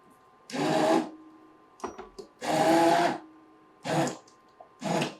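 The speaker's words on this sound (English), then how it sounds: "You want to make sure that the head of the immersion blender is underneath the surface" An immersion blender at low speed purees tomato sauce in four loud whirring bursts of about a second each, separated by short pauses with small clicks.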